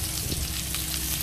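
Garlic and onion fry in a pan with a steady, dense close sizzle and crackle, continuous and fairly loud, with no voices.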